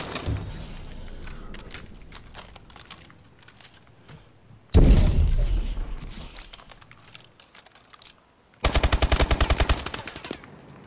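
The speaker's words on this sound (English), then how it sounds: "They're shooting from hotel side." Bursts of rapid automatic gunfire in a shooting video game, loud and close, with a sharp heavy volley midway and a fast rhythmic rattle near the end, between quieter clicking stretches.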